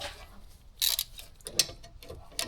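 A ratchet works on a 14mm brake caliper bolt during a rear brake job on a 2007-2015 Mazda CX-9, giving several sharp, close clicks in quick, uneven bursts.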